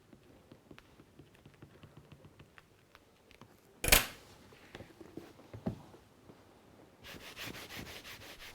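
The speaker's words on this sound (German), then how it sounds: "Das gute Stück wird noch poliert." A handmade bookbinding piece being polished, giving soft close rubbing and brushing strokes with scattered light taps, one sharp loud knock midway, and a denser steady rub toward the end.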